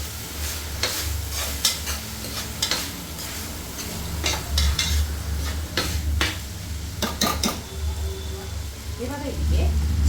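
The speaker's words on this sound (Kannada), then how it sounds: "ಇವಾಗ ಚೆನ್ನಾಗಿ ಮಿಕ್ಸ್ ಮಾಡೋಣ." Rice and ghee-rice green gravy being stirred in a pan with a spoon, scraping and clattering strokes with a soft sizzle underneath, close and steady across the clip.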